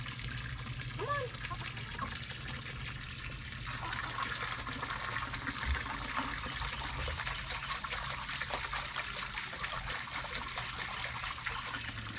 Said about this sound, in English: That water hose actually scares them.